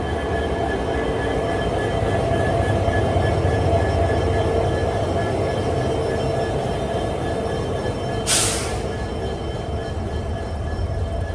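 Constant loud rumble of a train standing at a platform behind a WDP 4D diesel locomotive, an engine drone with steady tonal hum and a short sharp hiss burst late on, no voices.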